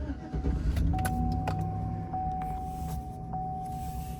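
A pickup truck is started with the key in the ignition, giving a low engine rumble with a few clicks and a steady electronic chime tone running through most of it, with no voices.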